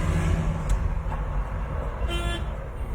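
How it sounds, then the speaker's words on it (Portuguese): Car horn honking in street traffic near a pedestrian crosswalk, with a couple of short toots over steady engine and road noise. "Já buzinou atrás, já buzinaram 2 vezes."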